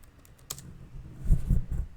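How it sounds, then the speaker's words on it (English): A short burst of keystrokes on a computer keyboard, a few light taps followed by a quicker, louder cluster of clicks, close by and with no talk. "Let's type out chain link."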